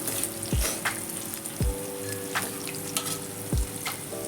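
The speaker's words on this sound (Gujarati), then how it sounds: "ગેસને મીડિયમ આંચ ઉપર જ આ વઘાર આપણે" Steady sizzling of a spice tempering in hot oil over medium heat, with a few soft clinks of a spoon against the pan, close and continuous.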